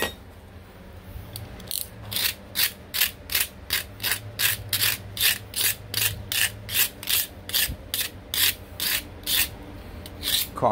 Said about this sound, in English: Run a piece of 80 grit to get all the edges clean.